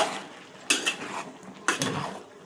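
Fried bottle gourd pieces are stirred in a metal pan, with two distinct bursts of scraping and clattering, close and moderately loud, and no talking.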